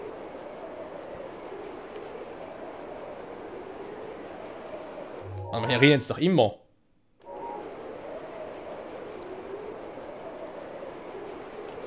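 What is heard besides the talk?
rain in the video game Zelda: Breath of the Wild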